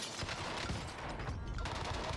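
Rapid gunfire from a first-person shooter video game crackles in dense, continuous bursts throughout, loud and busy with no clear gaps.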